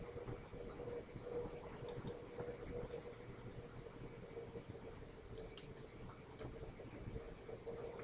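Faint, quick clicks of keys being tapped on a computer keyboard come in short irregular bursts over a low steady hum, distant and quiet, with no voices.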